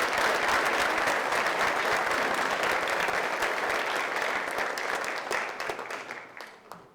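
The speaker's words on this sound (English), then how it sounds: "let's have a round of applause for this group of recruits." An audience at a military recognition ceremony for new recruits claps steadily in dense, sustained applause that tapers off and fades out at the end.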